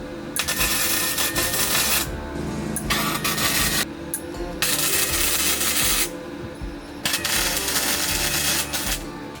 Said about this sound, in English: I've got this piece ready, so I'm going to weld it in.